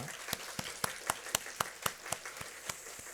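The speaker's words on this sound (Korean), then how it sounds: "하나님께는 감사와 영광의 박수 올려드리겠습니다" Slow, rhythmic clapping from a church congregation during a Sunday service, in even beats, roughly four per second, sharp and distinct against a quiet room.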